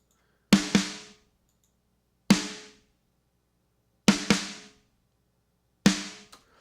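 An EZ Drummer snare run through an SSL channel strip and a Pawn Shop compressor, struck four times, some hits doubled with a quick flam-like second stroke, each crack ringing briefly before dying away; loud and close with nothing else underneath.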